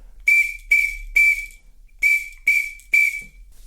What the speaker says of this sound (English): So the signal will be done on the whistle and it'll be solo time